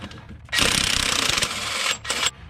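An impact wrench fitted with a 1.25-inch socket hammers at a transfer case nut on a Jeep Wrangler. It gives a loud, rapid rattling burst of about a second and a half, then one shorter burst after a brief pause.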